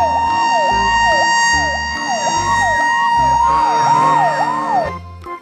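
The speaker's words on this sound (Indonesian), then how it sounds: "Wah, ini mobil pemadam kebakaran." A toy fire truck siren wails up and down in quick, regular sweeps, loud and close, over a pulsing electronic beat that stops abruptly.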